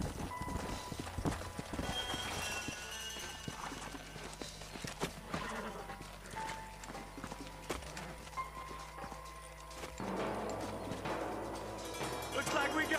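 Horse hooves clip-clop at a walking pace in the video game Red Dead Redemption, close and fairly quiet, with a mix of soft ambient noise and faint mechanical sounds around them.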